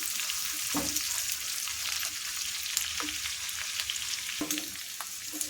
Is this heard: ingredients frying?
yes